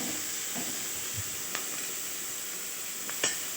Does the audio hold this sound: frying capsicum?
yes